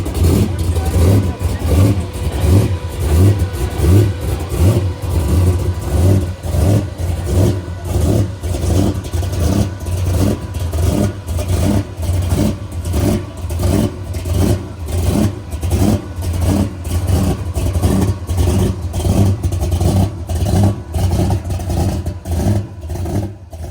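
A blown big-block 1957 Chevy Bel Air convertible pro street build with two four-barrel carburetors, rumbling in a loud, steady, choppy idle with repeated revs, close by, with voices talking over it throughout.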